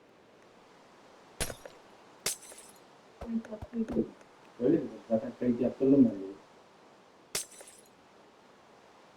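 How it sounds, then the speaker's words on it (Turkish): Sharp glass-breaking clicks from the video game Minecraft pop out a few times, separated by silence, while a player talks in between. "Kardeş sen niye cam kırıyorsun?"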